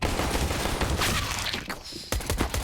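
CZ 75 pistol fire from a Counter-Strike match on Overpass, heard as a quick dense run of shots under a noisy mix of gameplay sound, with a couple of distinct cracks near the end.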